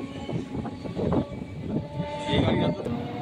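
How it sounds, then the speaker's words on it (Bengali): A Sealdah–Barrackpore local train rolls alongside the Kanchanjunga Express, giving a steady rumble and rattle with rhythmic wheel thumps and a faint high squeal, heard close from on board. "আবার আমাদের ট্রেন ধরে ফেলেছে কাঞ্চনজঙ্ঘা এক্সপ্রেসকে।"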